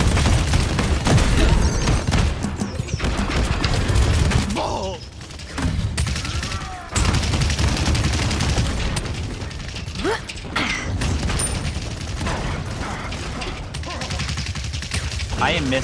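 Rapid gunfire and grenade blasts in the shooter game Paladins, dense loud bursts and clattering mechanical noise with brief lulls, while players talk over the action.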